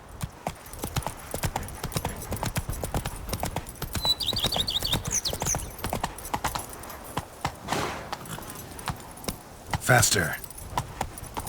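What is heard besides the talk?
horse Roach hooves clip-clop, from video game The Witcher 3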